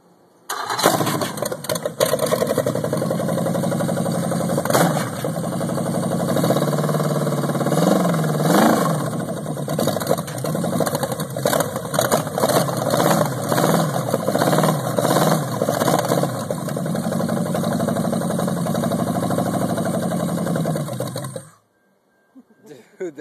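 An Oldsmobile 307 V8 test-fired: a brief crank, then the engine catches and runs loud and rough with uneven revving for about twenty seconds before shutting off abruptly, with people talking in the background.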